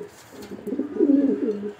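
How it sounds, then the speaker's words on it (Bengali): A male racing pigeon coos close by, a low throaty rolling call that swells in the middle and fades, heard alone. "এ হচ্ছে নর ডাকতেছে দেখেন"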